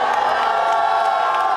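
A large crowd at a locking dance battle final shouts and cheers at full volume, a dense, sustained roar of many voices filling the whole stretch without a break.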